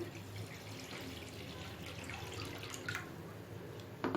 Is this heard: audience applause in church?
no